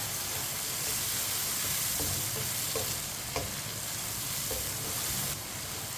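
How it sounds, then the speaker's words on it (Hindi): Tomatoes fry in a pan over a medium flame, giving a steady, close sizzle with faint clinks of stirring, alone without any voices. "अब टमाटर को भी 2 मिनट के लिए पका लेते हैं। चूल्हे की आंच को मैंने मीडियम रखा है।"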